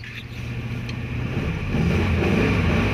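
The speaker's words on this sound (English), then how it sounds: "Rev counter's up, engine's revving nicely, and she's running." Rover P6 3.5 V8 idling steadily with a deep, even rumble that swells slightly louder toward the end, heard close up with no talking.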